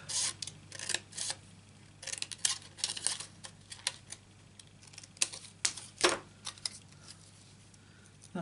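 Scissors snip through Stampin' Up Christmas catalogue plaid patterned paper in a series of quick, irregular crisp cuts and rustles, close up and fairly quiet, with no speech.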